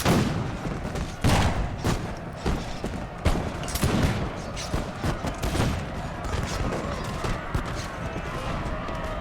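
Musket volley gunfire from the Imperial Splendour mod in a Napoleonic-era battle game, a dense continuous crackle of scattered shots with louder close reports popping through, rolling on throughout without pause.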